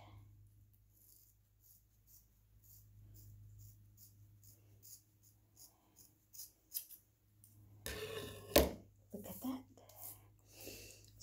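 Scissors snipping hair in a home haircut, a few short crisp cuts close to the mic toward the end, after a quiet stretch with faint breathing.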